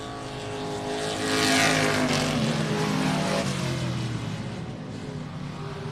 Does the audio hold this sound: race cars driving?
yes